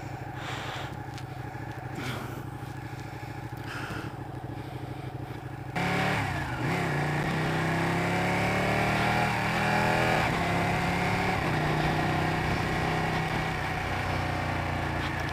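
Ducati 959 Panigale motorcycle engine while riding: a steady engine drone that jumps in loudness partway through and continues as a louder, rising rumble mixed with wind rush, heard from the rider's position.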